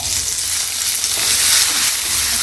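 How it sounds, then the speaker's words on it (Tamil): Curry leaves, shallots and dried red chillies sizzle and crackle steadily in hot oil in a pan, a loud continuous frying hiss with no voices. "இப்போ இது எல்லாமே சேர்த்து இன்னும் கொஞ்சம் நல்லா கொஞ்சம் வறுத்துக்கலாம்"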